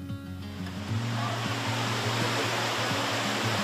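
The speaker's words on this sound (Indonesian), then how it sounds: "bunyi gemericik aliran air sungai yang menenangkan" River water flows beside a Bali-themed cafe in Sukaraja, Bogor, West Java, at night, a steady, soft rushing wash that carries on without break over a faint low tonal pattern.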